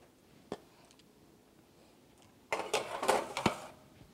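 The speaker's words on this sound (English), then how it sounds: "now into the oven." Metal cookie trays slid into a home oven: a single clink early on, then a busy run of clattering, scraping metal knocks near the end as the trays go in.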